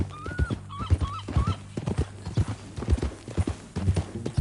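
Horse hooves clip-clop in Red Dead Redemption 2, a steady uneven rhythm of close, clear hoofbeats with a few whistling tones near the start.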